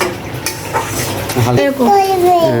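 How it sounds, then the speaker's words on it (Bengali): Potatoes fry in a pan and are stirred, producing a close, busy sizzle with scraping. A voice speaks briefly near the end. "আলু ভাজা হচ্ছে"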